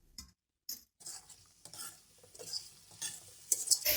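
Ground spices are stirred and roasted in a pan for green chicken karahi: close, scratchy scraping strokes in irregular bursts with brief pauses, over a light sizzle.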